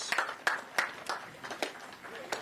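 Sparse, uneven clapping from an audience at an outdoor ground-breaking ceremony for a hybrid renewable energy project on Anegada, a few distinct claps close by with gaps between them.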